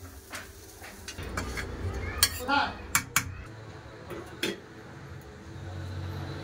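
Fried ridge gourd with onion and chilli is tipped from the pan into a dish, with close clinks and knocks of metal utensils and a soft scraping slide of the food, then quieter handling.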